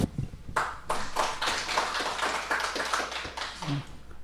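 An audience at a Korean academic conference claps to welcome a presenter, with scattered, uneven hand claps from a modest crowd. The claps come in loose bursts, fairly close, in a quiet hall with no one talking over them.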